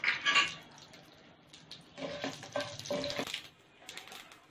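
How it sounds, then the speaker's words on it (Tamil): Mustard seeds and urad dal tempering in hot sesame oil in a kadai, a bright crackling sizzle at the start that settles into a steady frying hiss with a few spoon scrapes. "கடுகு உளுத்தம் பருப்பு தாளிச்சுட்டு"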